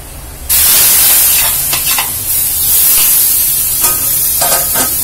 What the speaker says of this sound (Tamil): இப்ப அடுப்பு ஆஃப் பண்ணிட்டு நம்ம தாளிச்சிருவோம்.